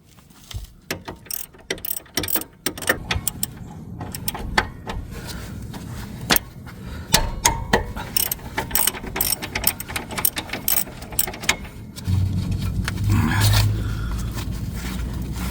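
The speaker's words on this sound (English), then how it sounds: "The socket that I'm using for this is number 17, and we'll open this and hang it." A hand ratchet with a 17 mm socket works on a car's rear brake caliper bracket bolts during a wheel hub replacement, giving rapid bursts of sharp, close clicking in irregular strokes, followed by a steadier low scraping rumble near the end.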